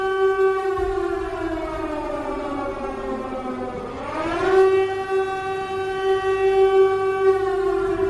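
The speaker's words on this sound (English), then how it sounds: "Did the air raid siren work at all right there?" A loud air raid siren wails steadily, its pitch dipping and then rising again midway through, with no voices.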